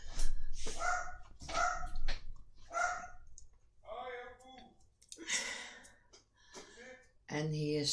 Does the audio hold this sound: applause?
no